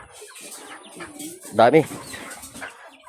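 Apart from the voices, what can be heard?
chickens clucking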